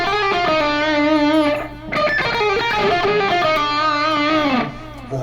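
Rapid distorted electric guitar lick from a solo, a dense run of notes crammed together with pull-offs, loud and close with heavy overdrive, played alone without talk and pausing briefly midway.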